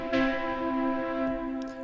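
Synthesizer chord preset with no effects, a soft sustained chord ringing evenly and fairly quietly, alone, in a chill house production.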